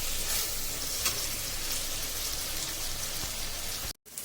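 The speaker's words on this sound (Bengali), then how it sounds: "বেগুনগুলো আগে ভালোভাবে ভাজা হোক, তারপর আমি মাছগুলো দিয়ে দিব" Eggplant pieces fry in hot oil in a pan for a fish curry, giving a steady, loud, broadband sizzle that continues throughout, with a brief gap near the end.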